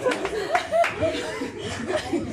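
Birthday audience at a mariachi performance claps and laughs, a short burst of scattered applause mixed with chuckles and a voice nearby.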